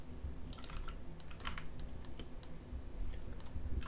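Keyboard typing and mouse clicks while drawing in CAD software, with quick light taps coming in small irregular bursts, close up and fairly quiet against a soft background hum.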